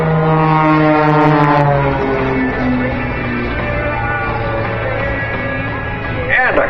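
Aerobatic planes fly in tight formation at the 2014 Lehigh Valley air show, their loud engines droning steadily, with the pitch sliding downward as the formation sweeps past overhead.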